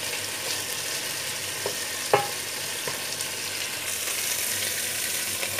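Chicken and spices browning in a pan for a chicken curry, a steady close sizzle with a few sharp clinks and scrapes of a utensil, no talking.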